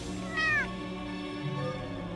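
A single short meow from a cat in the video game Dreamscapes: The Sandmann, clear and close over a soft steady game soundtrack.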